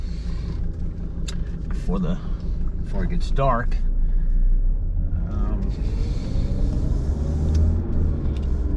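A 1991 Mercedes-Benz 300D 2.5 turbodiesel drives along with a steady low engine rumble and road noise, while someone talks over it throughout.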